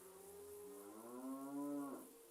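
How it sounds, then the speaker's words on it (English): A single low, drawn-out cow moo in American Truck Simulator, fairly clear and close, with a faint engine-like hum underneath. "You can hear the cows."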